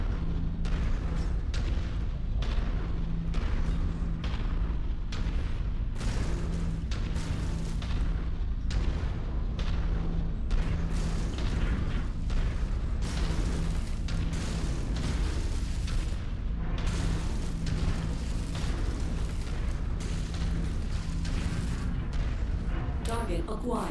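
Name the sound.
AC-5 autocannon fire in the video game MechWarrior 5: Mercenaries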